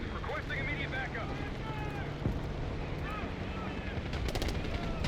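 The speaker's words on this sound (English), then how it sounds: "We've got gunfire to the right." Gunfire from the Call of Duty: Black Ops 6 campaign, desert dunes setting, with steady bursts of shots and a whooshing, windy battle backdrop under continuous voices and radio-style dialogue.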